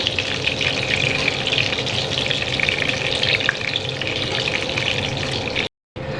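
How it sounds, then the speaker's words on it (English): Chicken lollipops deep-fry in hot oil, giving a steady, dense, close-up sizzle and bubbling that holds evenly throughout, broken only by a momentary dropout near the end. "now the lollipops have been frying for about 6 to 7 minutes on the other side as well"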